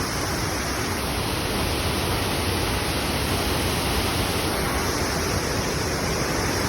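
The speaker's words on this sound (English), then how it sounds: "Look at all this waterfall." A roaring waterfall on a river pours continuously, a dense, steady wash of water noise that stays loud and unbroken throughout, with no voices.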